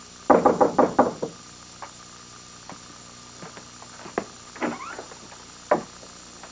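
A quick burst of six loud knocks on a wooden door, close and crisp, followed by scattered fainter taps and small thumps in an otherwise quiet room.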